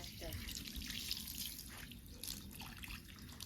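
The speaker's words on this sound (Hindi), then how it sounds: "अभी हो रहा है तुलसी पूड़ा का धोआई, मम्मी धो रही है।" Running tap water pours and splashes as a tulsi pot is washed, a steady close wash of flowing water with small drips, continuous and moderately loud.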